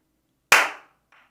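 A single sharp hand clap in a small home recording room, loud and close, followed by a short decaying ring of room reverberation and a faint second tap.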